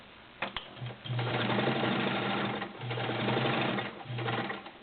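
A vintage Kenmore 1301 heavy-duty sewing machine stitches through the thick seams of a denim jeans pocket, its motor running loudly in long steady bursts with brief pauses between them.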